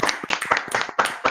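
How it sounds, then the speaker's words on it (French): Audience clapping for a performance in a short burst of claps at close range, with a few scattered taps rather than full applause. "applaudir leur performance"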